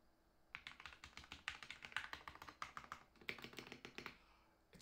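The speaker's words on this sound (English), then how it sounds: "I really like the sound of this Ducky 1 2 Mini keyboard." Someone types fast on a Ducky One 2 Mini 60% keyboard fitted with lubed Cherry MX Silver switches, making a dense, even run of soft, muted clacks that sound close and alone.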